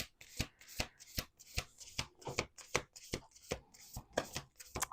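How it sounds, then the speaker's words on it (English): Playing cards riffle-shuffled up close, a fast run of crisp bursts and snaps repeating in a steady rhythm, with no talk over it. "let's do one more shuffle"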